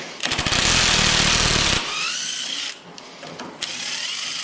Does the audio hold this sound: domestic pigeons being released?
no